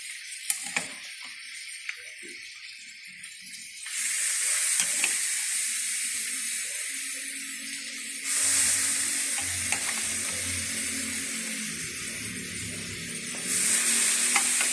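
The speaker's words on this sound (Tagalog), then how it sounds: "So, ginigisa na po natin." Boiled pork bones are sautéed in a pan. Quiet stirring and scraping break into loud, hissing sizzles that surge up three times and hold steady, close by.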